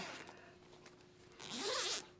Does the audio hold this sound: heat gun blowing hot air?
no